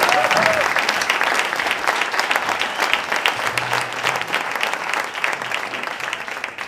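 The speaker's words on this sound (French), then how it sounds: "Je voudrais qu'on les applaudisse, s'il vous plaît." Sustained applause from an audience at a slam poetry show, many hands clapping in a dense, continuous patter for several seconds, fairly loud, with a faint voice briefly audible underneath.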